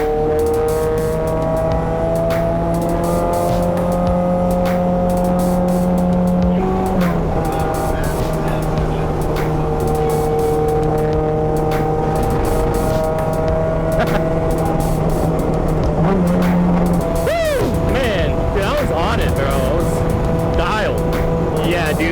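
A touring race car laps the Autobahn circuit in a sim racing game, its engine droning loudly and continuously with pitch shifts through gear changes and brief tire squeal, while someone talks over it.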